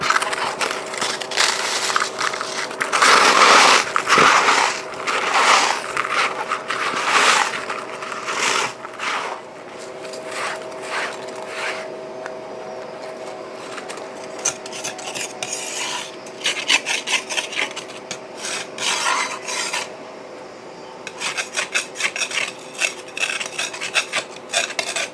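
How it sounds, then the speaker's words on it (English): Freeze-dried sweet and sour sauce ground to powder gives a harsh, continuous rasping whir, loudest in the first seconds, then pulsing in short gritty bursts, close and without speech. "let's get that in there and get that all powdered"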